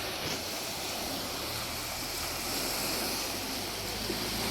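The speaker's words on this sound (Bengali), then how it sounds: "পানির স্রোত।" River water rushes through the open gates of the Teesta Barrage in Nilphamari. A dense, steady roar of churning current fills the whole stretch, loud and unbroken, with no voices.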